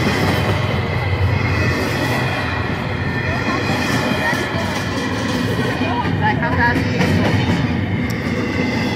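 A CSX double-stack intermodal freight train rolls past at close range, with a loud continuous rumble, rhythmic wheel clatter and faint squeal. It carries on for the whole stretch, with people talking over it outdoors.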